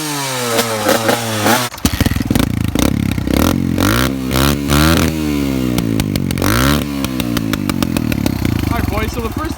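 125cc dirt bike engine with an FMF Powercore exhaust, revving hard and loud nearby in repeated rising and falling bursts, a raspy buzzing note, with people talking over it.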